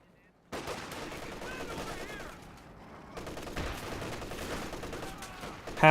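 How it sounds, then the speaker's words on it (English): Cannon and gunfire from the video game Company of Heroes 2, with a pack howitzer firing amid the battle: rapid bursts and rattling shots, then a sharper boom near the end, all over a constant battlefield din. "Pack howitzer fires away, rolls a miss"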